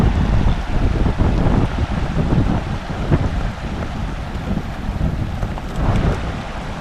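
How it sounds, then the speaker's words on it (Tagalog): Steady, broadband wind noise buffeting the microphone outdoors by a river, with a low rumbling roar that swells and eases without pause. "Hangin."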